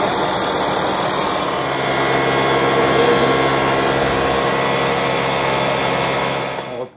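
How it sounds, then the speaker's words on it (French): Highly compressed Motobécane Super Master Super Sport moped engine running on a test bench, a high-pitched buzzing two-stroke drone held steady at close range before cutting off abruptly at the end. "j'ai mis ce Super Master Super Sport hyper compressé sur le banc et puis je vais lui faire son essai"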